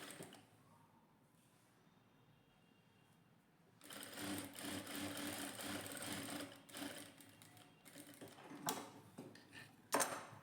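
Sewing machine stitching piping onto a princess-cut blouse. After a quiet start it breaks into a fast, continuous mechanical whirr of stitching up close, with a few clicks and knocks near the end.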